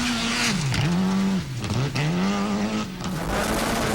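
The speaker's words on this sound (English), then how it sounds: "Richard Tuttle puts the Hyundai through its paces, pushing it as hard as he dares already on the second stage" A Hyundai rally car is driven flat out on a gravel stage near Lake Superior, Michigan. The engine howls loud and close, dipping and climbing in pitch through repeated lift-offs and gear changes, with tire noise underneath.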